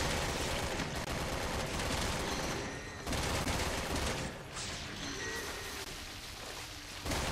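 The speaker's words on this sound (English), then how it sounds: "Shotgun to the face, bitches." Shotgun blasts ring out in Resident Evil 6 amid a dense, noisy game soundscape, with heavy bursts and brief dips in loudness across the stretch.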